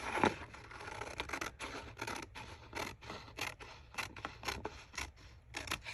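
Scissors cut through paper in a series of quick, crisp snips and rasping slices, fairly faint and close, with short pauses between cuts.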